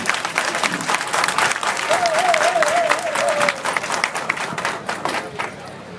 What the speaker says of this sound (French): Applaudissez-vous, mes chers amis.